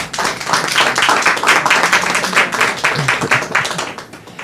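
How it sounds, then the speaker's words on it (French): An audience applauds a woman minister at a ceremony in Côte d'Ivoire, with dense, steady clapping that stays loud and close throughout, with no talk over it. "Je vous demande de l'applaudir."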